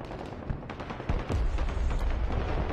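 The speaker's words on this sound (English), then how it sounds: "good explosion in the back" A distant explosion booms in Broken Arrow multiplayer battle gameplay, a low rumble swelling after about a second and holding, alongside scattered gunfire-like pops.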